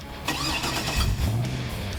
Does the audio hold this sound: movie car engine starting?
yes